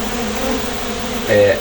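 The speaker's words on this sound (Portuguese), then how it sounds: "Dá para a gente observar a movimentação na entrada das caixas" Native stingless bees fly around an external feeder, giving a steady soft insect buzz with a brief louder, closer buzz toward the end.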